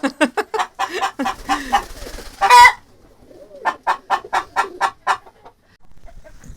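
Chickens cluck in quick, close bursts in a rural village yard, with a short squawk in the middle followed by another run of rhythmic clucks.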